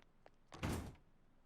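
A door shutting and locking in the video game Persona 4 Golden: a quick faint click, then a solid thudding slide-and-latch lasting about half a second, heard alone without talk.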